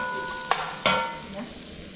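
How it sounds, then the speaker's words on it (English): Onion frying in a pan while someone cooks dinner at home, with a steady soft sizzle broken by two sharp stirring clatters near the start, close and moderately loud, and no voices. "So we'll first fry the onion. First fry the onion until golden brown."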